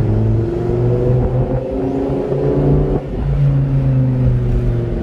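A Lamborghini engine revs deep and throaty while the car creeps along slowly, its loud, rumbling drone rising and falling steadily throughout, with a brief dip near the middle.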